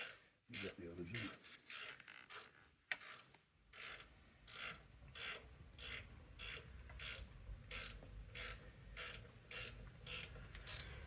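A ratchet tightens bolts on a Land Rover 110 Defender, clicking in steady rapid bursts of short metallic strokes, close and loud, with a brief clunk at the start and no talking.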